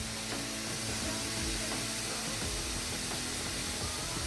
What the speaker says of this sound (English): Yeah, that's sizzling away.